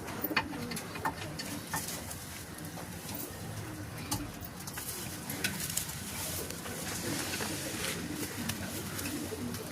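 Pigeons coo faintly amid a busy, noisy backdrop of clicks and rustling, a low steady murmur without clear talk.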